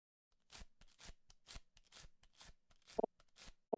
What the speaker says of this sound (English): He's shuffling the deck.